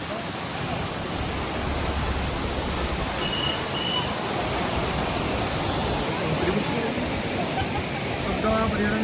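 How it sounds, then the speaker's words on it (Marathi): Amboli's main waterfall in full monsoon flow roars as a steady, dense wash of falling water that continues unbroken throughout. "हा इथला मेन धबधबा"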